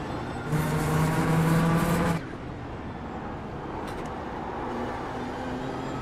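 Race car being prepared for the Nürburgring 24 Hours, engine revving hard in fourth gear with a loud, sustained high-pitched note that cuts off abruptly, leaving a lower steady drone of road and engine noise.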